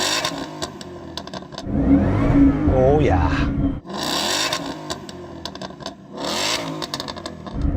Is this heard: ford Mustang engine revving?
yes